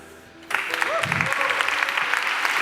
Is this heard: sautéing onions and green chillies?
no